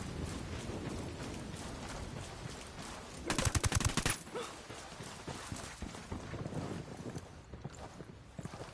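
Gunfire erupts in a video game shootout: a short, rapid burst of loud automatic shots rattles out partway through, set against an ongoing clatter of hooves and background noise.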